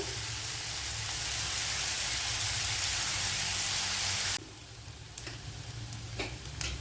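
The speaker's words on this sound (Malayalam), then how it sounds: "ഇതൊന്ന് വഴണ്ട് വരണം" Chopped snake gourd sautéing in a pan, a steady close sizzle and hiss that runs continuously, then drops sharply quieter as stirring scrapes and taps break in toward the end.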